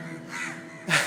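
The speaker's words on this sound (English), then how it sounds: "As you can hear, a lot of birds, a lot of crows, yeah?" Crows caw in Magoroto Forest, Tanzania, with a low background of other birds and a single louder, harsh call near the end.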